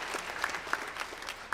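Audience clapping after a school choir concert, a moderate spread of hand claps with a few sharper individual claps standing out, fairly close and without talk.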